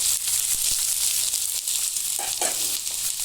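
Curry leaves dropped into hot oil, giving a loud bright crackling sizzle that holds steady, with a few pops and stirring sounds.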